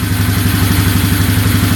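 A repaired ATV engine runs loud and close with the air box still off, a fast, steady pulsing chug of firing strokes with a rattling mechanical edge and no voices.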